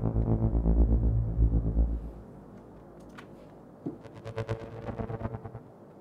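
A single timbre layer from Dawesome's Novum granular synth plays alone: a dense, distorted low drone fades after two seconds into a thinner, grainy, flickering texture with scattered bright pulses.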